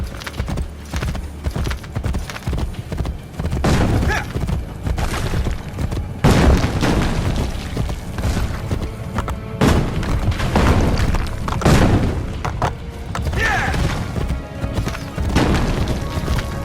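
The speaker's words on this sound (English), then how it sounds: "Faster to travel by horse." A horse gallops in Assassin's Creed Brotherhood with a steady, loud rhythm of hoof beats, joined by occasional heavy thumps and swelling game sound under it.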